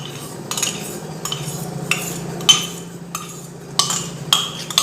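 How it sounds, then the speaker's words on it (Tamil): A spoon stirs honey into warmed coconut oil in a bowl, making a quiet scraping swirl broken by regular light clinks of metal against the dish, about one every half second. "இப்போ நம்ம இந்த தேங்காய் எண்ணெயோட ஹனியை கலந்துக்கலாம்."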